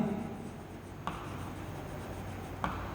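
A pen writing on paper in a quiet room, with faint continuous scratching and two short taps.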